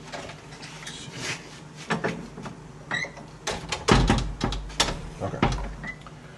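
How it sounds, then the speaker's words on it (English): A door beside steep stairs is pulled shut with scraping and rubbing followed by several close knocks and thuds as it settles into place, with faint background sound around it. "So let me shut this door."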